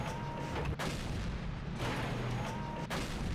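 Rapid tank cannon shots from an autoloading magazine in World of Tanks, a steady roar of rumbling fire with two sharp breaks between blasts, loud and close.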